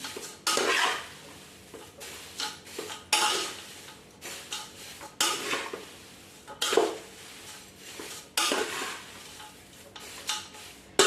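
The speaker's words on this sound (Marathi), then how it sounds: "आता चवीनुसार मीठ टाकून घ्यायचंय हलवून घ्यायचं व्यवस्थित हलक्या हाताने" Spicy poha chivda being stirred in a pan after salt is added, repeated rhythmic scraping and rustling sweeps of a spoon against the metal, fairly close and with a faint sizzle beneath.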